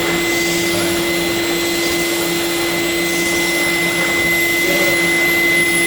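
A SEBO XP10 carpet vacuum cleaner runs steadily nearby with a constant loud motor whine and hum, no voices, suited to artificial turf, banquet halls and hotels.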